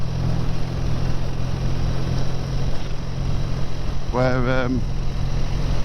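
A BSA A10 650 motorcycle engine runs at a steady cruising speed, a loud, even low drone with wind noise that holds throughout, while a rider talks over it.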